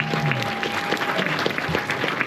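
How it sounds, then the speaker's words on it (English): Cinema audience at a film preview Q&A applauding director Harry Lighton, a dense, steady round of clapping from a full room that continues throughout. "a massive round of applause, please, for director Harry"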